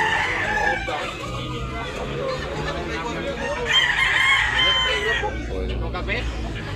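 A gamefowl rooster crows loudly and close by at a gamefowl sale in Tabunok, Cebu, amid a busy background of other birds and murmuring voices, with steady low rumble throughout.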